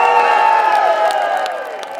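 Crowd at a Scottish independence march and rally cheering and whooping together, a loud sustained mass of voices that gradually eases off.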